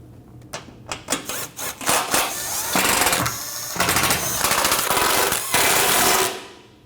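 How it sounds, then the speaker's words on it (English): A power tool rattles in short bursts and then longer sustained runs while tightening the bolts on a Nissan NV2500 pitman arm, loud and close, ending abruptly. "Now you can tighten down all 7 of your bolts."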